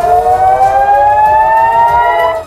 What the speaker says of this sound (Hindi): सायरन बजने लगे थे।